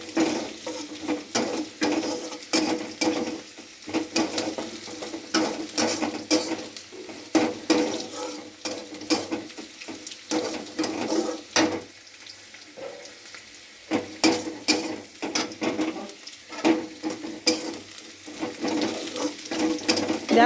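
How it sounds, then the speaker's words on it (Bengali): Onions frying in a pan while being stirred for a spicy fish curry, a steady close sizzle broken by repeated scraping strokes of the spatula, with no talk. "আমার পেঁয়াজটা ভাজা হয়ে গিয়েছে"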